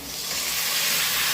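Prawns dropped into hot oil alongside red-fried potatoes, giving a loud, continuous hissing sizzle close by that swells slightly across the brief moment.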